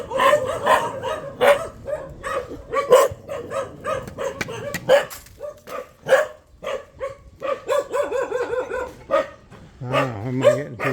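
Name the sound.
dogs barking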